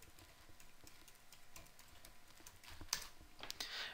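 Rapid, irregular clicking of fingers typing on a computer keyboard, entering a search into a browser address bar; steady, close-miked keystrokes with a few louder taps near the end and no talk.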